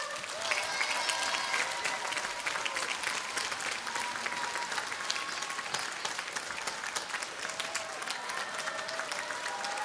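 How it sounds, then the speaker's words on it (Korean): Sustained, even applause from a concert hall audience at a Korean traditional orchestra's spring concert, a dense wash of many hands clapping without pause, moderately distant. "여러분 큰 박수 부탁드릴게요."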